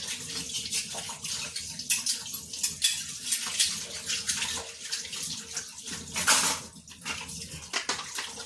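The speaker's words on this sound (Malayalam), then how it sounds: "ഞാൻ ഈ പാത്രമെല്ലാം കൂടി കഴുകി കഴിഞ്ഞിട്ട് വേണം" Dishes washed under a running kitchen tap, steady splashing water with clinks and knocks of pots and plates, rising in loud bursts as pieces are rinsed, continuous and close with no talking.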